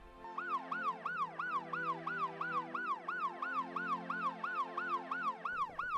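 An ambulance siren wails in a fast, regular up-and-down sweep, repeating steadily and loudly for the whole stretch with no voices.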